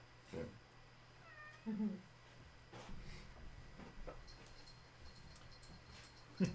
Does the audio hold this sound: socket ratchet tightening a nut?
no